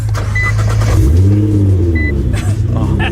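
Nissan GT-R engine cranking to life and revving up close, a deep steady rumble that swells and climbs in pitch, with people talking nearby.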